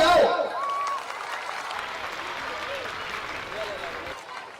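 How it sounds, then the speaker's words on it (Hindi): An audience at a Republic Day prize ceremony breaks into applause, starting loud and settling into steady clapping that continues for several seconds. "तालियां तो बजाओ।"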